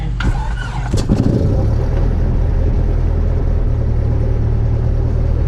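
A Cessna light aircraft's propeller engine catches and starts up, coughing briefly before settling into a loud, steady, close-up drone on the ramp.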